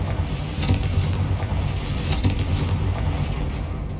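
A Confringo blasting spell explodes in Hogwarts Legacy, a loud sustained booming blast with crackling bursts and a low rumbling tail throughout, no voices.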